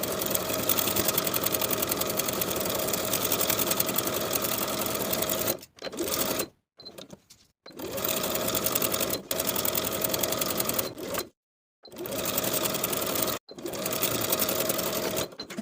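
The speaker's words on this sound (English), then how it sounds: "sewing straight across that neckline and back down to the bottom of the opposite center back" Close, loud sewing machine whirs through long bursts of straight stitching across a top's neckline and seams, stopping and restarting several times with brief silent gaps between runs.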